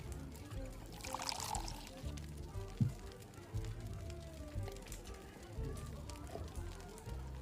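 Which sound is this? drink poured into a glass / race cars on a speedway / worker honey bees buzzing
drink poured into a glass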